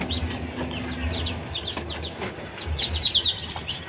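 Muscovy ducklings at a duck farm give high, thin chirps in scattered bursts over a low background rumble. The peeps are near and moderately quiet, bunching into a louder cluster toward the end.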